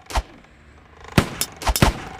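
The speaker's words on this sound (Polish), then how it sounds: "On, ma wybuchające strzały." Exploding arrows in a ragdoll archers video game burst in sharp, punchy blasts, one early and a quick cluster of three or four later, with no talk over them.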